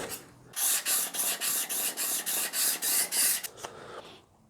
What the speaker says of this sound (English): I'm just going to polish that on the 1000 grit side